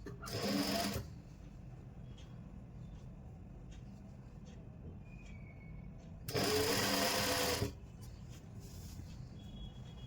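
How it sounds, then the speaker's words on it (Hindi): A sewing machine stitching a strip onto a suit collar, with two loud, steady whirring bursts of about a second each, one at the start and one near the end, separated by a quiet stretch of faint handling noise. "एक ही सिलाई में सीधा सीधा मैं सिलाई लगाते जा रही हूँ"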